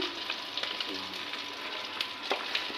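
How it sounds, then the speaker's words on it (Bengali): Pieces of rohu fish fry lightly in oil for a curry, giving a quiet, continuous sizzle with small crackles and pops scattered through it. "এরকমভাবে হালকা মাছগুলো ভেজে নিতে হবে"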